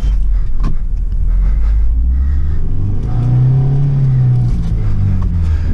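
A 2019 UAZ Patriot SUV's engine rumbles loudly and revs up while driving off-road into a pool of water, a heavy close drone with rising and falling engine pitch and splashing noise.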